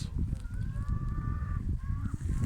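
Ducks in a garden in Ulukent, Tavas, Denizli quack and honk over a low, steady rumble of background noise, with a few drawn-out calls close by.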